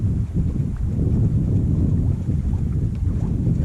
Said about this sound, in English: We're under sail now and going at about 3 knots and got a nice little breeze